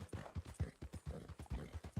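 Horse hooves clip-clop at a steady walking rhythm in Red Dead Redemption 2, with regular close, distinct hoof strikes and no talk over them.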